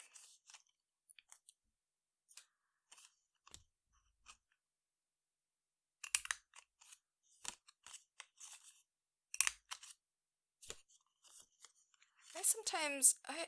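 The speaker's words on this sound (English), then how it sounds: "this is just an EK Success corner" An EK Success corner rounder punch, 1/2 inch size, clips through paper corners in a string of short sharp snaps, several close together, with a longer rustle of paper handling near the end.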